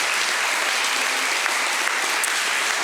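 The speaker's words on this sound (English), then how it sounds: "Give her a round of applause." Loud, sustained applause from an audience at an awards ceremony for a recipient, dense clapping from many hands filling the room evenly from start to finish.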